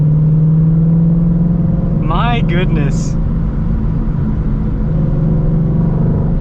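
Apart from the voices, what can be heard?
2022 Shelby GT500 engine while driving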